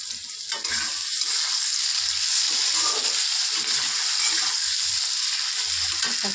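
Egg chili sizzles loudly in a pan as tomato, chili and soy sauces go in, a constant bright frying hiss with soft stirring scrapes and knocks underneath.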